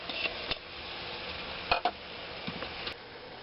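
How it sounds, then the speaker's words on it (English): Chopped celery and onions cook down in a pot, giving a steady low sizzle broken by a few sharp utensil taps and stirring scrapes, close by. "I'm going to throw that in with the onions so it can start cooking down"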